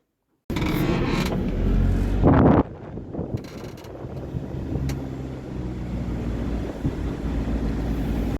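A car travelling by road from the mountains toward Lviv, giving a steady, muffled rumble of road and engine noise with wind buffeting after a sharp, loud burst near the start.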